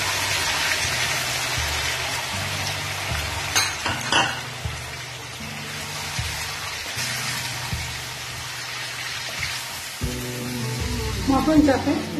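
Mutton chaap frying in ghee on a high flame, a steady dense crackling sizzle throughout with a few louder spatters and stirring clatter near the end, heard close up.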